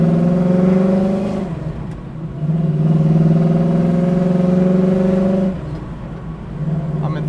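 A 1967 Chevy Camaro RS engine rising and falling in pitch as it pulls through the gears, with a clear drop and re-rise at each shift, loud and close throughout.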